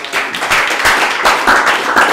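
An audience at an IPDN drum corps event gives loud, close applause in bursts, the claps coming fast and slightly rhythmic.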